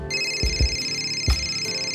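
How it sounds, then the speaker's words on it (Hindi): A mobile phone rings nearby with a steady electronic ringtone, a bright sustained tone with repeating pulses, heard clearly alone. "देखो फोन बज रहा है।"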